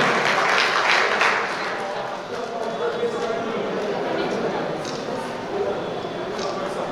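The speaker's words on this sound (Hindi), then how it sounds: "तालियों के साथ तालियों से स्वागत करें।" An audience at a district youth parliament prize-giving ceremony claps in welcome, a loud burst of applause that settles into softer, steady clapping with people talking over it.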